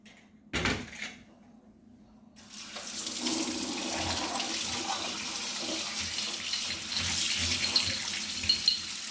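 Water runs steadily from a tap over brass puja items being washed in a sink, a continuous splashing rush after a brief knock, fairly close and unbroken.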